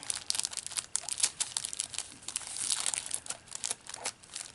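A gift package being opened up close, its wrapping crinkling and tearing in quick, irregular bursts with a few sharper crunches, nearly alone with no talk.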